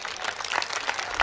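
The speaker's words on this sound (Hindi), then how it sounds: "एक बार पीछे तक दोनों हाथ उठा करके तालियां बजाइए।" A crowd claps in a brief, dense burst during a humorous Hindi talk to a live audience, with many hands sounding together at close range.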